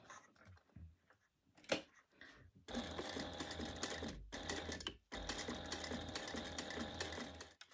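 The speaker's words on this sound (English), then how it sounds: "So I like to just sew a straight line." A sewing machine stitches a straight line on a bag, a rapid mechanical whir that runs in two long steady bursts split by a short pause, with a few softer clicks and handling noises before it starts.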